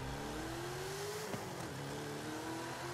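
A Dodge Charger R/T engine in Forza Horizon 5 revs with rising pitch, hits the limiter briefly, then drops and climbs again, steady and fairly close.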